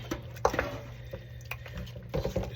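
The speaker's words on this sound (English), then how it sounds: "I'm going to stir this up right now" Seasoned meat stirred in a bowl with a utensil, scraping and clinking against the sides in short irregular bursts over a low steady hum, close by, with no talking.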